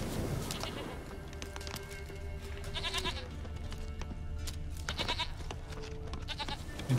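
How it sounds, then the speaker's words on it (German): A goat in The Witcher 3 bleats in repeated wavering cries, clear and fairly close, over a constant bed of game ambience and distant sounds, with no speech over it. "Die Ziege da schon gerade?"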